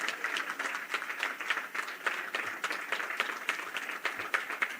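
Sustained applause from a political rally audience in Rajasthan, steady dense clapping throughout, moderately loud, without speech on top.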